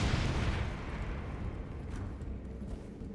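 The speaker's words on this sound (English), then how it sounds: "there's a lot of explosions in here" Deep rumbling explosions in Elden Ring boom close by, a dense roar that slowly fades over a few seconds.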